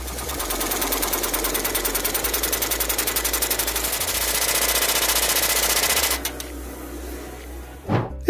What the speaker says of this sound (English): the rivets are compressed with greater force than in cold riveting